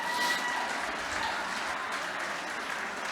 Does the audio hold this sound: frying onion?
no